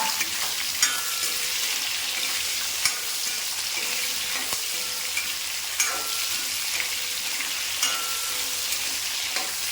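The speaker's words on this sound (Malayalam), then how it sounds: "എന്നിട്ട് നമ്മൾ ഇതിലേക്ക് വറ്റൽ മുളകും കറിവേപ്പ് ഇതിലേക്ക് മാങ്ങ ഇട്ട് കൊടുക്കാം ഇനി മാങ്ങ ഇട്ടൊന്ന് വഴക്കാം" Green mango pieces fry in hot oil with dried chilies and curry leaves for a green mango curry, giving a steady, close sizzling hiss with scattered small pops and crackles throughout.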